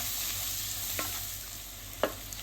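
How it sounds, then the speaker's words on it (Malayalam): Tomato frying in a pan while being stirred for a ladies finger stir-fry, a steady close sizzle with a couple of soft scrape-and-clack strokes from the spatula, no voices. "ടൊമാറ്റോ ഒന്ന് മെൽട്ടാണ് വരെ ഒന്ന് ഇളക്കുക."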